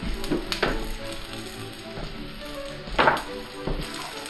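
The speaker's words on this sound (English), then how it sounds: "just stirring some cabbage" Cabbage sizzles in a frying pan with a steady, close frying hiss, broken by a few sharp scraping bursts as it is stirred.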